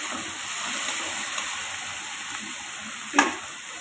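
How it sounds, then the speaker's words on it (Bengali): Onions, tomatoes and chilli frying in oil with black cumin: a continuous, even sizzle and hiss close by, with one sharp utensil knock near the end and no talking. "তো পেঁয়াজ টমেটোতে একটু ভাজা ভাজা হয়ে গেছে"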